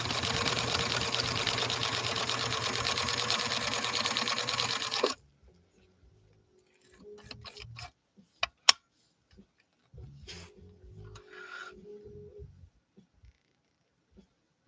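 A 1965 Viking Husqvarna 2000 sewing machine stitches in a steady, fast mechanical run for about five seconds and then stops, leaving scattered clicks, handling knocks and faint rustles close by.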